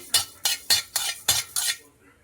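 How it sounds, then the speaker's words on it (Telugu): Cumin, coriander and fenugreek seeds dry-fried in a pan, a spoon stirring and clinking against the metal in six quick, close scrapes about a quarter second apart, then stopping. "జీరా అండ్ కొంచెం మెంతులు ఇది మొత్తం ఫ్రై చేసుకోవాలి ఇట్లా"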